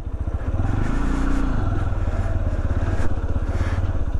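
A Zontes Mantis 125 motorcycle engine running close by, a loud, steady, rapid putter with a slight rise in revs partway through.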